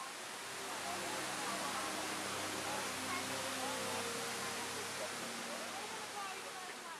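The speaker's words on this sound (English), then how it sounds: "From the top, we could see the drops of the waterfalls and horseshoe falls." Russell Falls, a waterfall in Tasmania, roars as a steady broadband rush of falling water, continuous and fairly close, with faint voices talking underneath.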